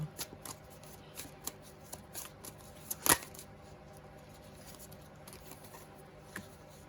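Tarot cards being shuffled close by: soft riffling patter with scattered light taps and one sharper snap midway, no voices.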